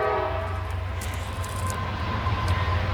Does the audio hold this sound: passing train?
yes